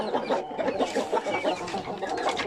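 Chickens and young chicks cluck in a steady, busy chorus close by, overlapping calls filling the pen with no talking.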